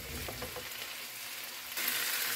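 Pan-fried spare ribs sizzle in a pan as they are stirred, giving a crackling frying hiss with a few scraping strokes, and the sizzle swells louder near the end.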